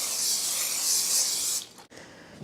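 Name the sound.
olive oil spray into bowl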